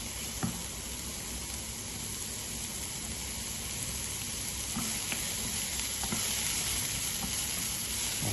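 Food sizzles and fries hard in a hot pan with very little oil, a dense, steady crackling hiss heard up close. Faint clicks and stirring noises sound now and then beneath it.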